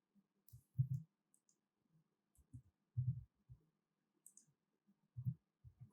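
Keyboard keys tapped while typing code in a code editor, sparse soft clicks in small bursts separated by pauses, close and quiet with no talking.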